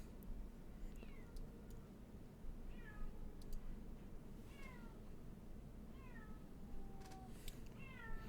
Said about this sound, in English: Sorry if you can hear my cat.